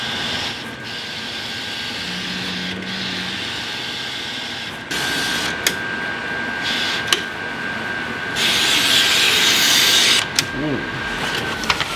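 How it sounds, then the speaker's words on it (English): A Mutoh RJ900X printer at work, a steady mechanical whir with a constant tone, intermittent clicks and carriage movements, and a louder burst of motor noise near the end, close by. "Here that is printing out on our Mutoh RJ900X printer"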